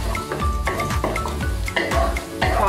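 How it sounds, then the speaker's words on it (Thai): Garlic fries in a pan with a steady sizzle, while a utensil stirs and scrapes against the pan in repeated knocks, close and fairly loud, with no talking over it. "เราก็ใส่กระเทียมลงไปด้วยนะคะลงไปก่อนเลย ทอดให้แค่พอเหลืองนิดหน่อยเนาะ"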